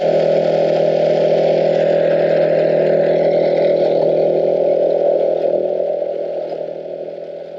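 A Wen 56235i portable inverter generator runs under load while charging a box truck, a steady loud droning hum with a strong tonal whine that stays constant, then eases slightly quieter near the end.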